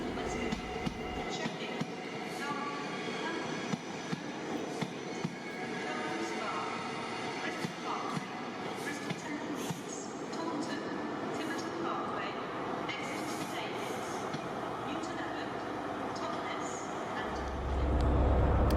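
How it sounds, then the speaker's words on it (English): Steady rumble inside a moving CrossCountry HST passenger train in first class, with a constant low hum, faint rhythmic wheel clicks and occasional rattles, while a voice talks throughout. "Riding as a passenger on the HST is therefore a quieter experience with little vibration."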